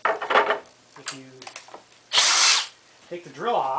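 Power drill driving a power feeder in a woodworking shop, with short whirring bursts and one louder sustained run, interspersed with clicks and handling sounds while a person talks nearby.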